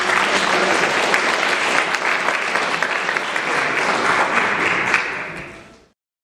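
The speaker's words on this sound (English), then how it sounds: "give yourselves a round of applause for being here" A large audience claps steadily for several seconds, a dense, even wash of applause that fades out at the end.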